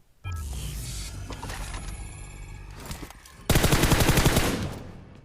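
M4 rifle fire in PUBG Mobile: a sustained automatic burst, then a louder, denser rapid volley, close and punchy with mechanical clatter.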